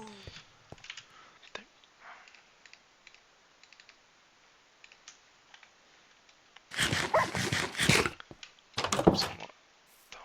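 In the Minecraft video game, a dog barks in two loud clusters of bursts near the end, after a stretch of soft, scattered computer keyboard clicks and taps.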